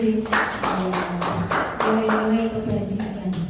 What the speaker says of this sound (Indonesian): Tepuk tangan untuk Bu Susi.